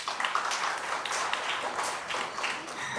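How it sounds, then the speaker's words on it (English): Audience applause at a brand awards ceremony, dense continuous clapping from many hands, fairly loud and steady throughout with no voices over it. "So one round of applause for him, please."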